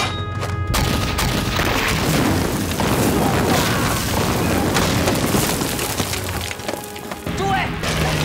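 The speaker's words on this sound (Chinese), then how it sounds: "日军的战斗机就已经扔下炮弹，在冯天魁的阵地上来回轰炸。" Japanese fighter planes bomb Sichuan army positions at the Battle of Tengxian: heavy booms, blasts and crashing debris roll almost continuously, loud and chaotic, with voices caught up in the din.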